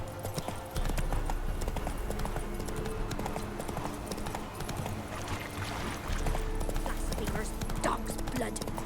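Roach, the horse in The Witcher 3 video game, gallops with steady, rapid hoofbeats that continue throughout, mixed with other in-game sounds.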